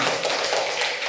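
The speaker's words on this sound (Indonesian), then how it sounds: "tepuk tangan semuanya." A group of people clapping their hands together in a steady, dense patter at a school gathering, moderately loud and fairly even, with no voices over it.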